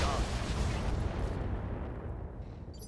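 Mech weapons firing in the RogueTech mod of the BattleTech video game: a dense, rumbling barrage of booms that fills the clip and slowly fades toward the end.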